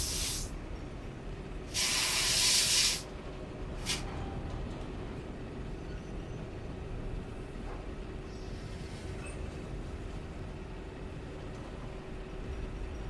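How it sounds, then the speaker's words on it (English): Contact cleaner is sprayed into a game controller in a few hissing bursts, one short, one longer and louder, then a brief final puff, followed by a low steady background hum. "thank God for contact cleaner"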